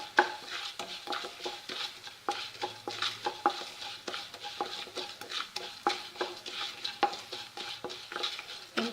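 Coriander seeds and peanuts dry roasting in a pan, stirred with a utensil in a steady rhythm of scraping and rattling, with soft crackle beneath, close and alone.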